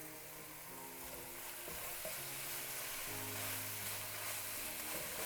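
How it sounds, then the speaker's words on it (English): Fresh spinach cooking down in a pan, seasoned with salt and pepper, giving a steady, moderate sizzle and frying hiss throughout with no talking. "now we've cooked our fresh spinach down"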